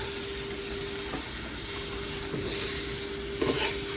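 Sri Lankan egg roti: beaten egg with cheese, chili flakes, salt and pepper frying and being spread around a hot pan, giving a steady close sizzle with a few soft scraping stirs and a small pan knock near the end.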